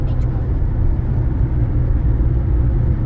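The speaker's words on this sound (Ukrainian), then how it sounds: "Такий рух дуже інтенсивний, всі їдуть швидко" Heavy fast traffic on a four-lane motorway bypass around Budapest, heard from inside a moving car as a steady, loud, broadband road roar and tyre rumble without a break.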